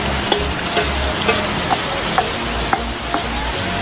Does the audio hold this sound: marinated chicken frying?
yes